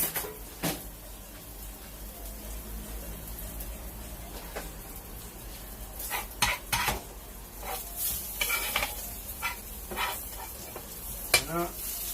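Hamburger meat fries in a pan while a spoon stirs it, giving a steady sizzle broken by sharp scraping and clinking knocks of the spoon against the pan.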